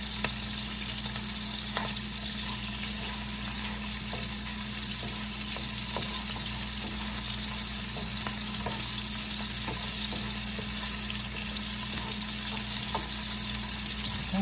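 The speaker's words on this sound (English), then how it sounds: "Saute these peppers up." Peppers sautéing in a pan for Panamanian arroz con pollo, with a loud, continuous hissing sizzle and occasional faint stirring clicks, holding steady and close for about fifteen seconds with no talking.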